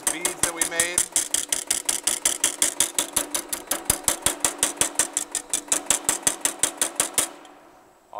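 Baileigh variable speed power hammer, model MH-1, smoothing beads in 16 gauge mild steel: a rapid, steady train of loud metallic blows that stops near the end, with some faint talk early on.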